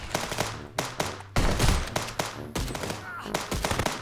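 Rapid gunfire in a police video game, repeated loud bursts of automatic shots with short gaps between volleys, close and sharp, with brief overlapping talk.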